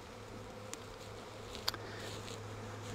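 Honey bees from a Flow Hive Classic hum faintly and steadily while a frame is lifted out for inspection, with only a few brief clicks and no voices.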